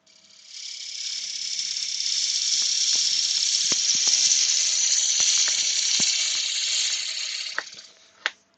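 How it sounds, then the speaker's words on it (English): A wood lathe turns a workpiece with a steady hiss and whir, broken by scattered light clicks and taps. "So the lathe seems to be coping with it."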